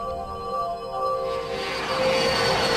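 A Soviet fighter interceptor jet in flight during a 1968 test over Riga, Latvia, on archival film; a steady engine roar with droning tones that swells louder and broader toward the end.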